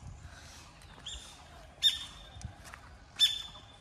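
A bird calls near an old temple in quiet, secluded grounds, giving two sharp, loud squawks about a second apart over faint background sounds and softer chirps.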